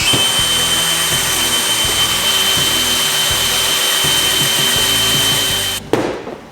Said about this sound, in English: We'll drill the other side, and this bad boy will be ready.